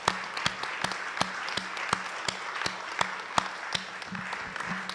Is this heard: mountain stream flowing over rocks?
no